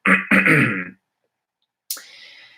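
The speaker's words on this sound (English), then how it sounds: "go ahead and clear your throat." Two throat clearings sound close and loud in a quiet room during a group meditation, a gruff double rasp followed after a silent pause by a softer clearing.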